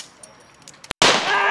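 A single loud blank gunshot goes off from a cowboy show gun at an outdoor frontier village stunt show, sharp and close, followed by ringing echo after a brief silence.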